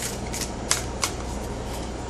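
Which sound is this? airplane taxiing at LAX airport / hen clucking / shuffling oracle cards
shuffling oracle cards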